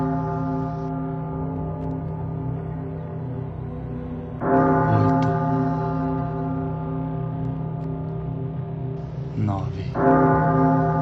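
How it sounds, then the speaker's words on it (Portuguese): A huge bronze bell tolls twice, each heavy strike blooming into a long ringing hum over a low, continuous drone. "6 vezes o sino tocou, como o pulso entorpecido de um gigante de bronze."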